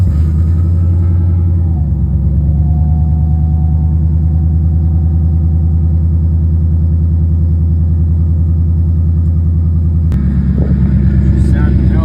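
A car engine idles loudly and close after a cold start in snowy weather, a deep steady rumble with a low throbbing pulse and brief shifts in tone partway through.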